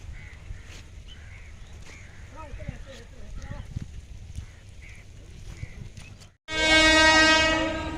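A train at Jakhaniya railway station, with low rumbling and scattered crow calls and chatter, then a sudden loud, sustained horn blast close by at the end.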